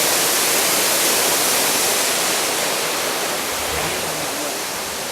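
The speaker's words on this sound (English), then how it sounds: "You can actually feel the mist coming off the waterfall." A waterfall in Hoa Binh, Vietnam roars in a dense, constant rush of falling water, loud and close, with no voices.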